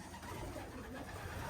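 Pigeons coo softly inside a loft, low and murmuring under a steady background rumble.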